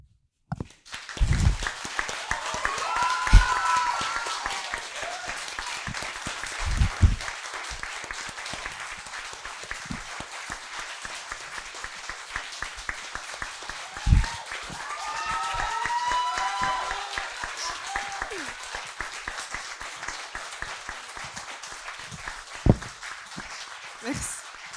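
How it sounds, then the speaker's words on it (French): Audience applause at an eloquence evening, a long sustained wash of clapping from a crowd lasting throughout, with a few faint voices and cheers rising over it at moments. "Doua rêver de ces applaudissements."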